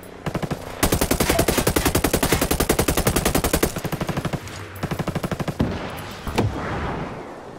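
Rapid bursts of machine gun fire in Ghost Recon Breakpoint ring out loud and close, several long rattling volleys broken by short pauses, then a few scattered shots near the end.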